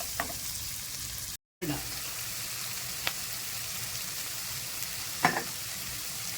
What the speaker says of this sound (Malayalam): ഗ്രീൻ പീസ്, ഇത് ഫ്രഷ് ഗ്രീൻ പീസാണ്, ക്യാരറ്റ്, ഇതൊന്ന് വഴറ്റിയെടുക്കണം